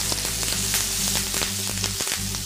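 Garlic and thyme sautéing in a skillet for Tuscan-style chicken thighs, a loud dense sizzle with fine crackling pops throughout, close and continuous with no talk.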